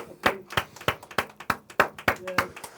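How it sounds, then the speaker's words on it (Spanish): A church congregation claps in slow, regular unison, about nine sharp beats at a steady rhythm, with a faint voice or music tone underneath. "Un aplauso al Eterno entonces."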